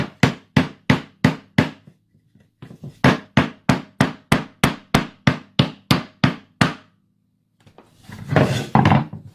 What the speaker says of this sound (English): so now we're going to test the hammer. Just found a random piece of wood. Got a nail here.